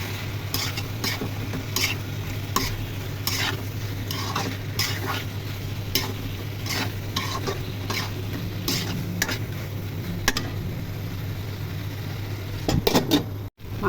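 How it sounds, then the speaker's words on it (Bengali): Chicken curry (murgi bhuna) with ground cardamom sizzles as it fries in a pan while a utensil stirs it in steady repeated scrapes and clinks, close and continuous, with no talking. "এখন নেড়ে ছেড়ে দিব।"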